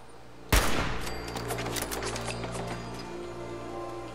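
Gunfire in the video game Fallout 4 opens with a sharp loud shot, followed by a rapid string of crackling shots that ring out and fade.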